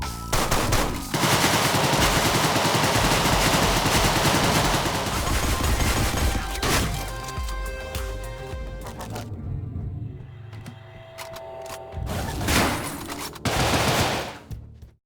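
Weapons firing in the video game Deadbolt: dense rapid gunfire bursts dominate the first half, then scattered shots and sharp blasts return near the end amid game music and ambience.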